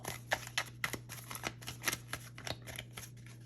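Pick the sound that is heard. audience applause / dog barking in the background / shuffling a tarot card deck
shuffling a tarot card deck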